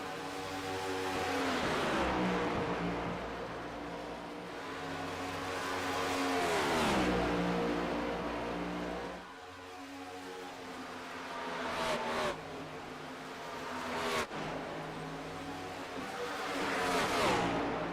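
Race cars thunder around Kansas in a racing video game, engines droning steadily with swelling passes and pitch sweeps as the pack roars by, loud and continuous with no talk.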